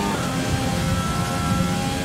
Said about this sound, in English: What was that? Engine troubles we're having there?